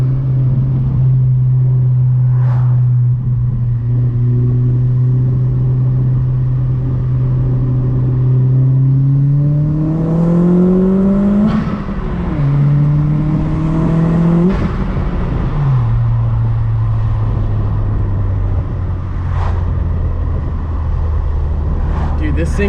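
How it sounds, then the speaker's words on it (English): A Stage 3++ Audi A4 making about 450 hp accelerates hard, and the loud in-cabin engine drone rises through the gears. Brief pops and crackles come from the exhaust, and people talk over the noise. "Trying to get some of the exhaust to pop."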